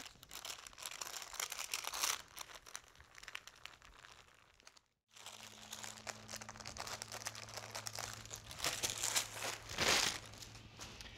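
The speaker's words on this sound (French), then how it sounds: "Ensuite, on retire le papier parchemin" Parchment paper crinkles and rustles as it is peeled away from a freshly baked rolled sponge cake, soft and close, in uneven bursts broken by a brief pause.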